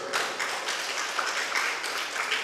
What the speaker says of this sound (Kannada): ಚಪ್ಪಾಳೆ ಇಡ್ಬೇಕಲ್ಲ.